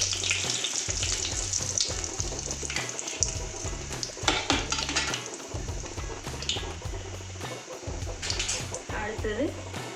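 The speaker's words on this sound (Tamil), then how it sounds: "கடுகு வெந்தயம் நல்லா பொரிஞ்ச பிறகு வரமிளகாயும் கருவேப்பிலையும் சேர்த்துக்கலாம்." Mustard and fenugreek seeds frying in hot oil for a sardine curry, a crackling sizzle with spattering bursts running throughout, while someone speaks steadily over it.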